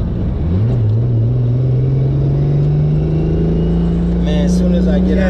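A 650 hp Lexus SC300 accelerates hard, its engine note climbing steadily in pitch after a shift and holding a loud, droning rise heard from inside the car, with brief talk near the end.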